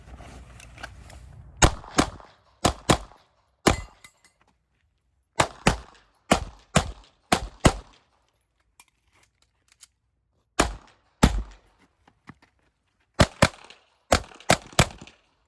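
Pistol shots ring out on a practical shooting stage, sharp loud reports in quick bursts of two and three separated by short pauses, nearby and clear with no talking.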